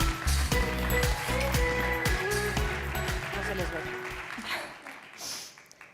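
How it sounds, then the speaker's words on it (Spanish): A conference audience at an insurance event claps as speakers are introduced, with a loud, dense burst that slowly thins and fades while music or low voices carry underneath. "Un fuerte aplauso."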